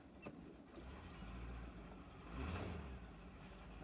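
Engine of a 1990 Range Rover Classic running with an exhaust leak, a steady low rumble that swells louder toward the end, with a brief sharp tick near the start and no talking.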